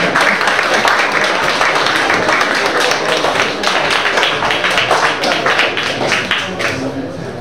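Audience applause at a cabaret evening of a poetry festival fills the room with dense, steady clapping, close and loud for the whole stretch, with crowd voices mixed underneath.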